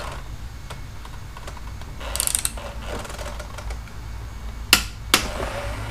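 Ratcheting wrench tightening the lower fork bolts on a 1984 Honda Shadow 500 motorcycle to 40 foot-pounds, heard as close clicking ratchet strokes in short bursts with a couple of sharp metallic clacks near the end.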